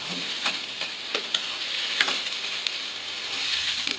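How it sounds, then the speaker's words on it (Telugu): Chopped onions fry in a hot pan for mutton liver curry, giving a steady close sizzle with scattered light ticks and crackles, continuous and without talk. "మనం ఆనియన్స్ బ్రౌన్ కలర్ వచ్చే వరకు మనము ఫ్రై చేసుకోవాలి"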